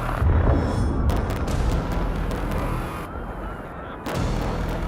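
Thousands of demolition charges detonate to bring down the grain silos in Sulaymaniyah, a loud, dense rumble of blasts that rolls on and then cuts off abruptly before resuming.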